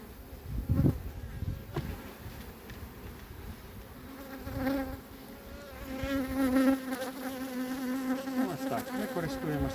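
A swarm of bees buzzes continuously at close range as they are shaken from hive frames, the drone wavering and swelling, with occasional handling knocks and no talking.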